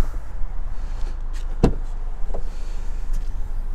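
The trunk of a 2022 Kia Sportage is opened, giving one sharp latch clunk mid-clip, a softer thud just after and faint light clicks, heard close and clear.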